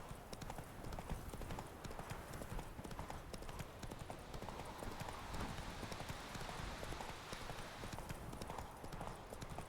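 Horse hooves clip-clop steadily at a gallop in The Witcher 3, a continuous rapid drumming of hoofbeats with game ambience and no talk.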